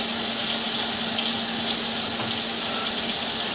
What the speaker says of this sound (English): run some water for a while, just try to flush out the line a little bit